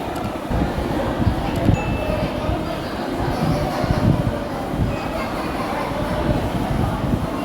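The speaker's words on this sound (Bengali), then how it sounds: "এই যে আমার ট্রেনটি চলে এসেছে" A metro rail train pulls into a station, producing a continuous loud, low rumble and rolling rail noise that fills the whole stretch, with faint station ambience around it.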